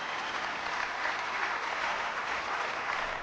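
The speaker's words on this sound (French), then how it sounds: "on peut les applaudir quand même" Studio audience applause on a French TV game show, a short burst of dense, even clapping that holds steady throughout with no voices over it.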